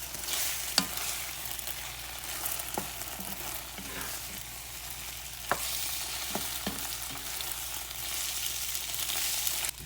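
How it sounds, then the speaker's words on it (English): Eggs fry in a hot iron skillet with a broad, steady sizzle, broken by a few sharp pops and spatula clicks, close and moderately quiet. "It won't take but just a minute to get these eggs cooked."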